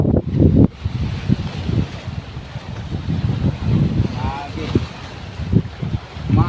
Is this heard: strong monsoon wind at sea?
yes